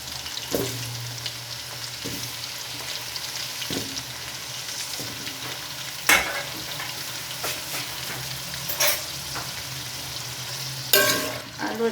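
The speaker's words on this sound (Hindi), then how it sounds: "आलू मैंने फ्राई करने हैं।" Potatoes sizzle steadily in oil in a pan, a soft continuous fry broken by occasional clinks and scrapes of a spoon stirring, with no one talking.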